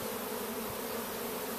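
Honey bees buzz in a dense, continuous drone close by while they are moved from national onto commercial brood frames in a Bailey comb exchange.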